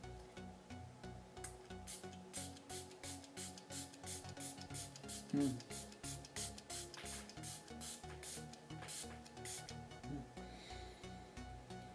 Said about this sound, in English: let me set my face real quick. With the Milani Make It Last setting spray